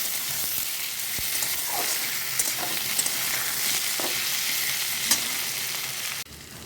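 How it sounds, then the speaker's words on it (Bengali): Chopped tomato fries in a pan for a fish curry made with chela fish, giving a steady hissing sizzle with a few soft stirring clicks before it cuts off abruptly near the end. "এটা দিয়ে ভালো করে একটু ভেজে নেব"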